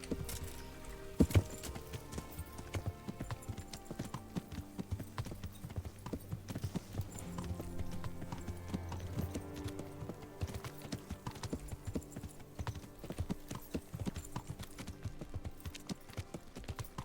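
Horse hooves clip-clopping in Kingdom Come: Deliverance, a steady rhythmic trot of close, crisp hoofbeats on a hard path, continuing throughout with faint game ambience and little talk.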